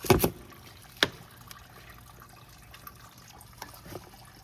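Coolant trickles from the upper radiator hose of a 2014 Lexus RX350 with a 2GR-FE V6 as the hose clamp comes off. Faint intermittent dribbling is broken by a couple of sharp metallic clicks near the start.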